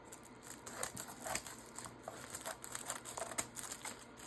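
Scissors snip through a plastic rhinestone package, with soft crinkling and tapping as the packaging is handled close by and quietly.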